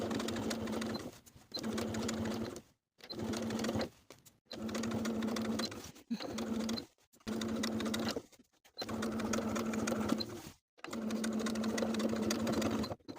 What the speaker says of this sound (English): Stitching in the ditch from the outside, sew from one center front all the way around to the opposite center front